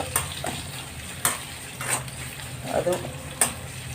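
Onions and green chillies fry in a pan with a soft, steady sizzle, broken by several sharp clicks and scrapes of stirring, close and moderately quiet.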